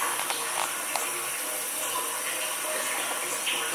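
Water from an inexpensive solar pump pushing over 500 feet uphill flows steadily into a container, a continuous close hissing gush with no talking.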